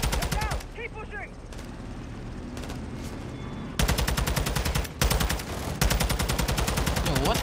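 Rapid automatic gunfire in Call of Duty: Modern Warfare 2, sustained bursts of loud machine-gun fire with brief gaps, mixed with scattered battlefield shots and faint voices underneath.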